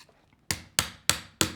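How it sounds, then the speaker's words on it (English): Four sharp hammer taps drive a pin in while making a washi tape beaded curtain, evenly spaced, close and crisp, after a brief quiet start. "Do you want to hammer it?"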